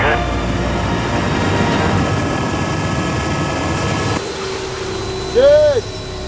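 A rescue helicopter comes in to land in Alaska, its engine and rotor droning loudly and steadily at close range. The tone shifts partway through, and radio chatter and voices come over the noise.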